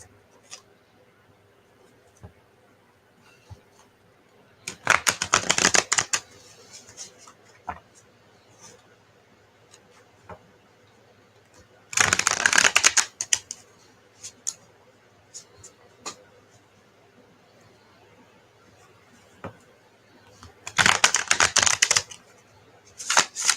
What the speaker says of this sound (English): I think these are shuffled good enough